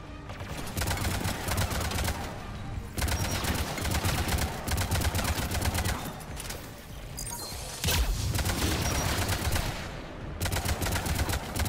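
Heavy weapons fire in the video game Mass Effect 3 comes in loud, dense bursts, some several seconds long, split by short pauses.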